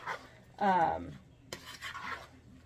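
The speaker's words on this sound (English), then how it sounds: "we're going to stir this up" A spoon stirs watermelon blueberry salsa in a bowl, giving a short wet scraping and squelching sound that is soft and close, in two brief bursts.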